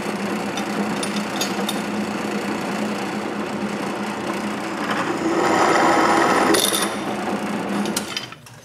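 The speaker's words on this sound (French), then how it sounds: "je peux percer des trous dans les barrures aux emplacements des boulons de peinture" Power drill boring holes through wooden boards while a workshop is being built. A steady grinding whir runs throughout and swells louder near the end before cutting off.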